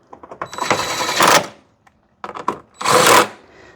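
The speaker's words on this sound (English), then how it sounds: "Grab a 10mm, tighten them in there." Ratchet tightening 10mm nuts on a Hyundai Santa Fe headlight, two loud bursts of rapid clicking separated by a short pause, close up.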